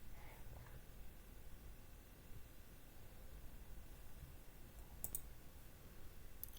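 A computer mouse gives two faint, sharp clicks a little more than a second apart against a quiet background hiss.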